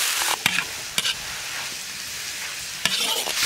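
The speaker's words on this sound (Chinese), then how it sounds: "锅里倒点猪油，油后下入醋姜蒜干辣椒，炒下下入酸菜泡辣子" Pickled cabbage, chili, vinegar, ginger and garlic stir-fried in lard in a wok, a steady hiss of frying broken by several sharp scrapes and clacks of the spatula.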